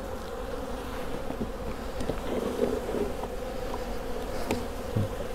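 Honeybees buzz steadily and close at hand as a spring hive inspection is closed up, a dense continuous hum with small bumps and knocks from handling the box.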